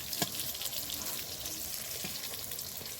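Slices of pointed gourd (potol) fry in a pan over low heat, giving a steady, close sizzle with soft crackles and one sharp tick near the start, and no voices.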